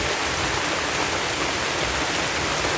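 Steady heavy rain falls in a rural province setting, a dense, continuous hiss with no gaps and no talk.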